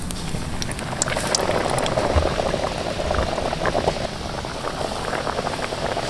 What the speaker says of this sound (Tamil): நம்ம ரெடி பண்ணி வச்ச டோனட் பீஸை எண்ணெயில் போட்டு பொரிச்சிருவோம்